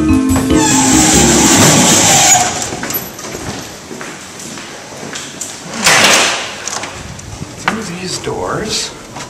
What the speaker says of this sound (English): Doors.